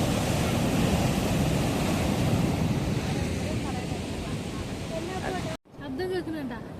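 Strong sea waves at Azheekkal rumble and crash in a dense, loud roar with wind noise, easing slightly before an abrupt break, after which a person speaks over the quieter surf.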